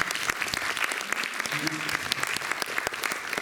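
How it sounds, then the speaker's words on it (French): An audience at a stage show applauds a performer, with many hands clapping in a crisp, busy patter, and a brief voice or tone briefly audible in the middle. "on va applaudir Cédric"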